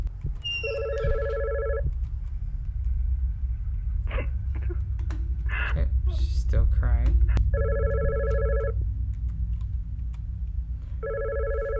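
A telephone rings in the horror video game God's Basement, steady electronic ring bursts repeating at intervals over a low rumbling drone, while a person talks between the rings.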